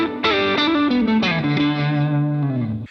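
An electric guitar with a distorted, effected tone plays a lick of paired notes that slide and bend, ringing out to a sustained close with no voices.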